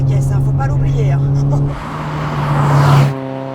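A Citroën Saxo VTS 16V engine revving hard toward 7000 rpm, a loud, strained rising drone from inside the car that cuts off abruptly near the end, with a voice speaking over it.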